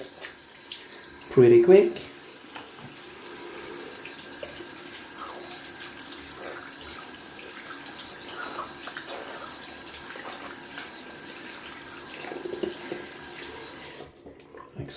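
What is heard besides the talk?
rinsing a shaving brush under a running sink tap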